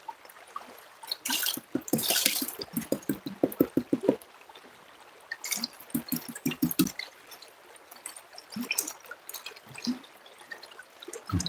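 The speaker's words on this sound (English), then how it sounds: "Wash the pan down." Creek water sloshes and splashes as a gold pan is washed down, in quick rhythmic dips and swirls with dripping and trickling between them, close and alone with no talk.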